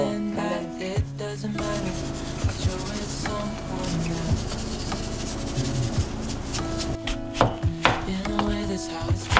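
A knife scoring flounder on a cutting board, a steady close rhythm of taps and scrapes with sharper knocks toward the end, over background music.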